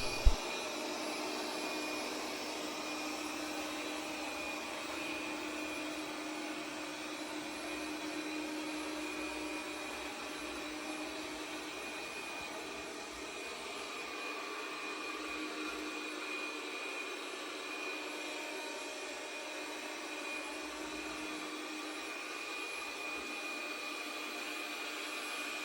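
Roidmi EVA robot vacuum and mop combo running indoors, a steady, even whirring hum with a high whine that continues unbroken for the whole stretch and carries no voices.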